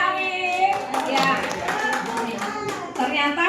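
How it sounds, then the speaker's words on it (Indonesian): A classroom of students claps together for a classmate, with dense overlapping hand claps at moderate loudness that hold steady for a few seconds amid faint voices. "Sekarang kita beri tepuk dulu buat Arif."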